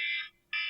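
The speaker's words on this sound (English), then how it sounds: "That's my alarm." Loud electronic alarm beeping up close in two sustained high tones, with a short gap between them and no voices.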